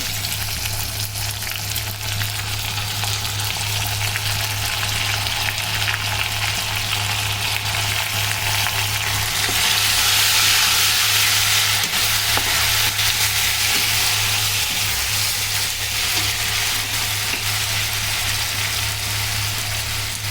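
Garlic paste and onions frying in a pan, a loud, steady, close sizzle that swells briefly midway and carries on unbroken, with a constant low hum beneath and no talk.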